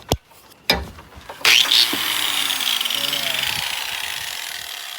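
A grinder shaves metal off the ear of an engine timing cover, with a few knocks and clatters leading into a sudden loud whine that settles into a steady, close grinding drone.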